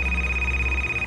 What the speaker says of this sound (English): The phone in the house rang out as soon as I called.